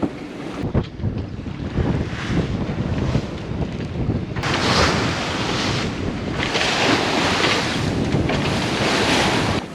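Rough waves crash and surge against a sailboat amid strong gusting wind, the wash swelling louder partway through and staying loud.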